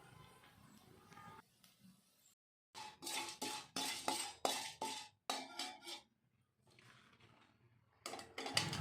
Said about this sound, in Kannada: ಕಡಲೆಬೇಳೆ ಸ್ವಲ್ಪ ಫ್ರೈ ಆದ ನಂತರ ನಾವು ತೆಗೆದುಕೊಂಡಿರೋ 1 ಸ್ಪೂನ್ ಸಾಸಿವೆ ಹಾಕಿ ಸಿಡಿಸ್ಕೊಬೇಕು.